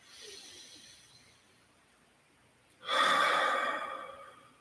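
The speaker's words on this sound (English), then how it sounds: "Breathe in." A deep inhaled breath during a guided breathing meditation, a soft airy intake swelling near the end after a fainter earlier breath, close and alone with no talking.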